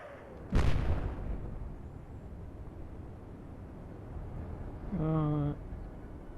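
Naval gunfire from Atlantic Fleet, a Battle of the Atlantic wolfpack engagement with Kriegsmarine forces: one sharp, loud cannon blast near the start, then a low rumbling tail, with a brief tonal ship sound later and a voice briefly.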